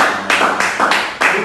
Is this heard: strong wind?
no